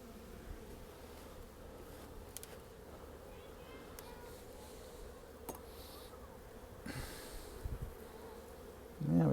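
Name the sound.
honeybees buzzing during beehive inspection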